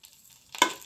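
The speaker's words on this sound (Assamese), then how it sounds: "পেষ্টটো দি ধুনীয়াকৈ লাৰি আছোঁ, ধুনীয়াকৈ লাৰি থাকিম যাতে তলত নালাগে" Paste for an eggplant dish stirred in a hot pan while it fries: one short, close scrape with a burst of sizzle after a near-silent start.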